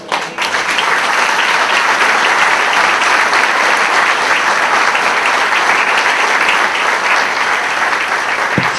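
Sustained, loud audience applause fills the room at a political talk held at a provincial auctioneers' association, steady dense clapping from start to finish without a break.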